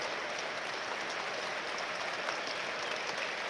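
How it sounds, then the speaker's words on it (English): A large stadium crowd at a Sunderland AFC v Hull City football match applauds steadily, a dense continuous wash of clapping that stays even throughout with no voices standing out. "He gets a round of applause because he has been brilliant since coming back into the side."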